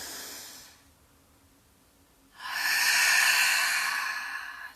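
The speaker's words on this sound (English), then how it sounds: "So we're going to breathe in to the belly. We're going to expand the belly, and then force it out." Deep belly breathing, a long soft inhale followed after a pause by a loud, forceful rushing exhale lasting a couple of seconds, close and alone.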